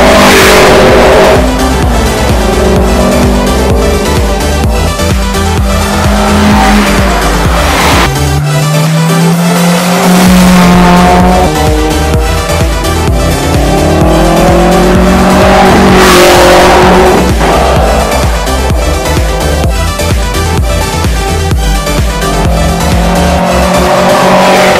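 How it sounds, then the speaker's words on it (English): A Nissan Frontier pickup driven hard around the Dover race track, its engine loud and close, revving up and down through the gears with rising and falling pitch and brief tire squeal. "I didn't have a race car, so I decided to drive my Nissan Frontier."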